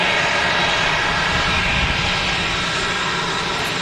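An EasyJet airliner sits at the airport with its jet engines running, a loud, steady roar that holds constant throughout without talk.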